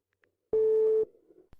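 A single electronic phone tone sounds once for about half a second, steady and buzzy, then fades into a faint low murmur and a soft click, as a call is placed to a plumber about a burst pipe.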